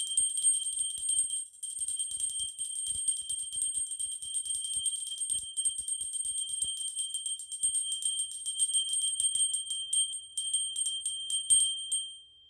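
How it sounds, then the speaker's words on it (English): Small bells jingle and tinkle continuously for several seconds, rung in a steady rhythmic shaking to clear the energy in a room, bright and close with no talking. "If you don't like bells, please close your ears"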